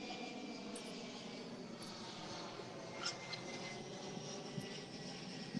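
A jet airplane passing overhead, a faint, steady broadband roar that holds evenly throughout, with a few small clicks and no speech.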